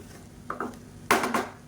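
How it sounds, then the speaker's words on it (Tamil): A lid is set onto a cooking pot on the stove, giving two close, light clinks, the second louder and ringing a little longer, with no talk. "மூடி வச்சிடலாம்."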